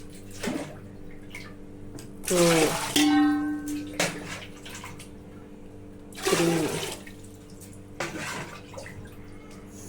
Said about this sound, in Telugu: ఇప్పుడు అదే లోటాతో 6 వాటర్ తీసుకుంటాను.